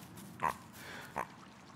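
A hungry pig in the video game The Last Campfire gives two short, nasal grunts about three quarters of a second apart over quiet background ambience.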